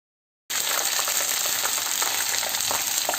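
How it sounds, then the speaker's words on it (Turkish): Crispy mantı dumplings sizzle and crackle steadily in hot oil in a pan after a brief silence, a dense continuous hiss with small pops throughout. "Bu şekilde kızgın yağda dikkatli bir şekilde kızartalım"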